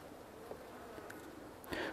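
Bees from an opened beehive buzz faintly and steadily around the frames, with a slightly louder pass near the end.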